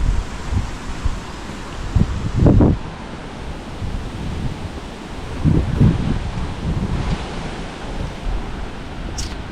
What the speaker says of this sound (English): Very windy down here, very windy.